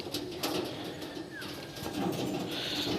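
Pigeons coo softly near a cage amid an outdoor murmur of rustling and distant noise, with a brief chirp partway through.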